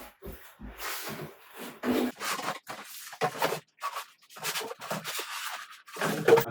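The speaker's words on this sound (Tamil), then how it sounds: "அந்த அவுட்டர் பாக்ஸ் ரிமூவ் பண்ணோம்." Outer cardboard box being pulled off a Zebronics Zeb-Juke Bar 9400 Pro Dolby 5.1 soundbar package, with a run of close, quiet scraping and rubbing strokes, irregular in rhythm, with no speech.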